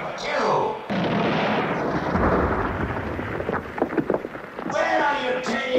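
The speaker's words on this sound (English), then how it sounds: "Keep shooting at him! Keep firing!" Gunfire in a Superman audio drama sounds as booming, rumbling shots mixed with shouting voices and a dense crackling wash, louder bursts bunched toward the end.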